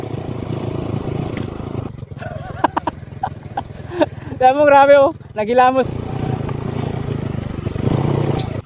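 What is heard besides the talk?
motorcycle riding downhill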